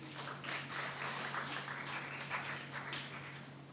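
An audience at a debate event gives the two teams a round of applause, a sustained dense patter of many hands clapping that swells slightly in waves, heard at a fair distance without speech.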